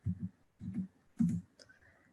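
Typing on a computer keyboard in three short bursts of quick clicks separated by brief pauses, close and quiet with no talking.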